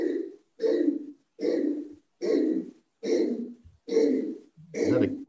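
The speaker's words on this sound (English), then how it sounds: "Is that a cat coughing up a furball, Peter?" A cat coughs up a furball in seven regular hacking bursts separated by short silences, each heave close and fairly loud.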